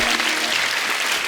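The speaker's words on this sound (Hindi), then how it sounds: "खैर आलिया के लिए जोरदार तालियां।" Studio audience on a Hindi comedy talk show breaks into loud, dense applause, a steady wash of clapping that fills the whole moment without a break.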